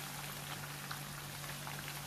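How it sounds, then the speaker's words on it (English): Chicken 65 pieces frying a second time in oil heated to about 170 to 180 degrees, a steady, dense crackle and sizzle of bubbling, close but quiet, with no talking. "I'm going to start frying them again"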